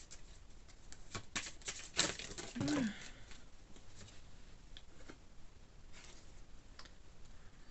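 Tarot cards are shuffled and drawn in a quiet room, making soft, repeated riffling ticks and papery flicks with a brief swishing burst midway, all faint and close.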